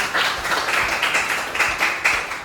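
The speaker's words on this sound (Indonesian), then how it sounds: "Oke, bisa tepuk tangan dulu untuk Gede Manik." Elementary schoolchildren in a classroom clap for a classmate, a loose burst of many small hands with uneven bunched accents, fairly close and lively, with no talk over it.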